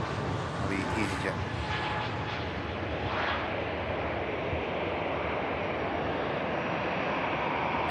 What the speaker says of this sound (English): And behind this, EasyJet heading over to Belfast.